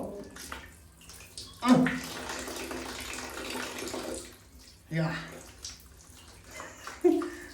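Water runs steadily as if poured or flowing during a bath, with brief child's cries and splashes breaking in at intervals.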